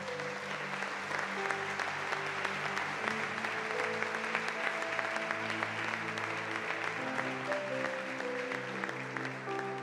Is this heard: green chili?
no